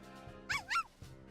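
A small dog in a visual novel scene with a girl playing by a fountain gives two quick high yips in a row, followed by a softer yap, heard over quiet background music.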